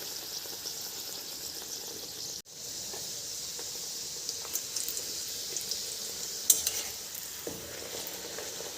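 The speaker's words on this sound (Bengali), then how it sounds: "তেল গরম হয়ে গেছে, আর এবার দিয়ে দিচ্ছি তো ফুলছে খুব সুন্দর লুচি" Pea-stuffed kochuri puff up while deep frying in hot oil, giving a steady, soft sizzle with scattered small bubbling pops and a brief dip partway through. No one speaks.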